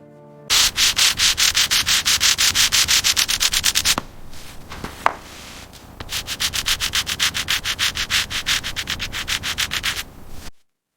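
Steady back-and-forth sanding strokes rasp across the surface of a giant soap bar, loud and rhythmic for about three seconds, a short pause with a few scrapes, then another long run of even strokes before stopping.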